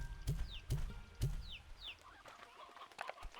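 Roosters and hens cluck in the Slime Rancher 2 video game. Three sharp, close clucks come in an even rhythm, followed by softer, scattered chicken sounds and chirps.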